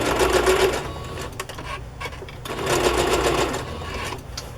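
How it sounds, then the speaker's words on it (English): Sewing machine running a zigzag stitch across the top edge of Aida cloth to stop raveling, a steady close mechanical whir in two bursts with a short slowdown between them, no talking. "I'm going to zigzag across the top to prevent any more raveling"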